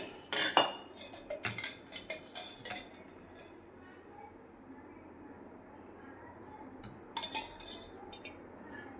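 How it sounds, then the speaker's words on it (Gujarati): Oil is added to semolina dough in a bowl and mixed, with bursts of close metallic clinks and scrapes of a utensil against the vessel, then a quieter pause before more clattering. "તેલ નાખ્યું, એને હલાવી દેવાનું."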